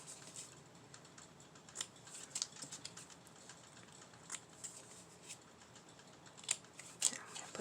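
Scissors snip paper scraps for mini notebooks in quick, light, irregular cuts, close and fairly soft, with faint rustling of paper between the snips.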